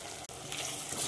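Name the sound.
onions, chilli, tomato and spice powder sautéing in sesame oil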